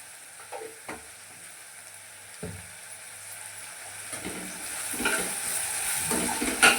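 Onions sautéing with rock salt in a pan for a bitter gourd stir fry, a soft steady sizzle with occasional spoon scrapes and stirring knocks, growing slightly louder, close.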